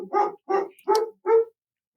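A dog gives four clear, evenly spaced barks, close and fairly loud, with a short pause before a fifth starts at the end.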